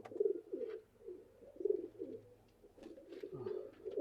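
Pigeons cooing in a loft, repeated low throaty coos in uneven bursts close by, with faint rustling and small background noises between the calls.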